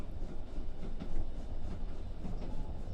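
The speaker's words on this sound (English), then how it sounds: "The steam train enters a dark tunnel now as it takes you underneath London" Steam train running on rails through a tunnel beneath London, a steady loud low rumble with faint rhythmic rail clatter, continuous and close.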